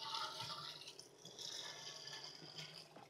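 Hot water is poured into a still boiler, a steady, soft splashing and trickling stream that runs unbroken, with slight gurgling shifts as the vessel fills.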